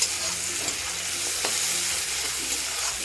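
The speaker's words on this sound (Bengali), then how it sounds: "হলুদটাকে মশলার সাথে খুব ভালোভাবে মিশিয়ে নেব" Turmeric is stirred into frying spices in a pan for an ash gourd and shrimp vegetable dish, giving a steady close sizzle with soft scraping stirs and no talking.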